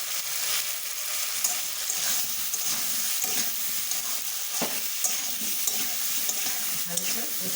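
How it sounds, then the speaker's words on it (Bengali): Fish sizzles in a hot pan with turmeric and salt as it is stirred and sautéed, a continuous bright frying hiss broken by scraping spatula strokes and occasional clinks, close and loud with no talking. "ভালো করে কষিয়ে নিচ্ছি।"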